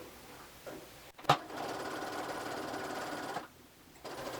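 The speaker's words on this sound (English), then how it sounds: "So I'm going to set my machine to a basting stitch" Sewing machine running a long basting stitch, a steady fast mechanical whirr that starts after a sharp click and hums close and moderately loud for a few seconds before pausing.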